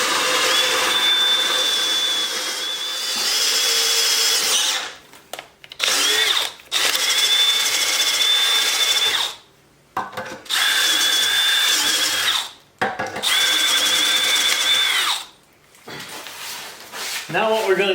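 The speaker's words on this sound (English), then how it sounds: "Now we're going with a 5/16 drill bit" Power drill with a 5/16 bit boring bolt holes for a log splitter build, running in several loud sustained bursts of a few seconds each with brief pauses between them; a voice talks in between.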